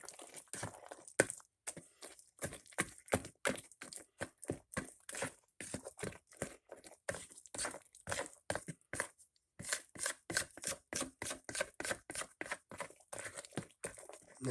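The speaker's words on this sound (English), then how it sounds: "Just added the walnuts in there and mix them in there good." Banana bread batter with walnuts being mixed by hand: a long run of rhythmic, close scraping and thudding strokes, steady and repeated, with no voices.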